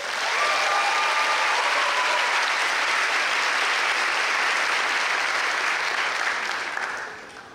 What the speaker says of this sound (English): Give a round of applause for all of our group leaders.